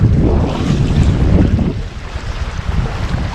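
Strong wind roaring and buffeting a microphone on a hike through The Narrows canyon in Zion National Park, Utah, a dense low rumble that eases slightly partway through.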